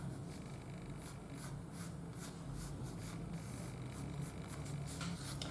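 A pencil sweeps across paper drawing an arc, a continuous close scratchy scraping with slight rhythmic strokes, alone and fairly quiet.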